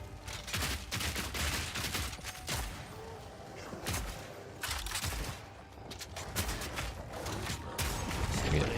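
Crossbow grenades fire and burst repeatedly in Path of Exile 2, a continuous loud barrage of sharp shots and explosions with mechanical clacks mixed in, broken only by brief dips.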